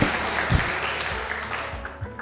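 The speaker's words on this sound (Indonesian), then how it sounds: "Tepuk tangan dulu dong." An audience at a talk gives a burst of steady, loud clapping that fills the short moment without pause.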